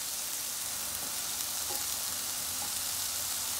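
Onions going into a pan of mushrooms frying in garlic butter give a steady, even sizzle with a few faint clinks, heard alone at moderate level.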